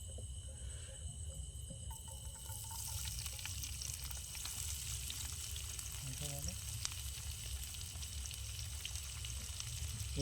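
Onions sizzle in oil in a pan at a group camping site, a steady close frying hiss that carries on throughout while people talk nearby.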